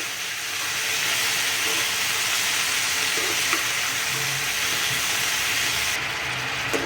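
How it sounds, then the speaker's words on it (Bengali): Bottle gourd fries in a pan over a high gas flame, giving an even, continuous sizzle and hiss that holds steady and close for several seconds with no talking. "এরপর গ্যাসের ফ্লেম হাইতে রেখে আমি 1 থেকে 2 মিনিটের মতো এটা ভালোভাবে ভেজে নেব।"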